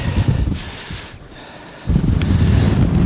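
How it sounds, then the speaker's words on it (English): Gusty wind buffeting the microphone outdoors on a hillside near Mam Tor in the Peak District, loud rumbling bursts that ease briefly before picking up strongly again. "And windy on this side of the hill."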